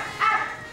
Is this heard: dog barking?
yes